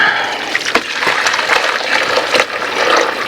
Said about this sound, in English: We'll dump this in this bowl with this colander.